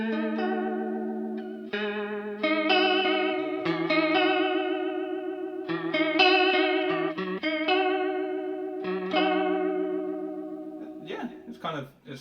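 Electric guitar played through a Rocktek CHR-01 analog chorus pedal, sustained chords and picked notes with a shimmering, slightly metallic wobble, close and steady for most of the phrase before trailing off into scattered plucks.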